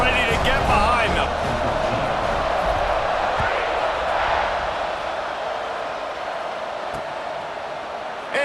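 A stadium crowd roars steadily before kickoff in the college football video game EA Sports College Football 26, a loud, dense wash of cheering that holds for several seconds and eases slightly toward the end.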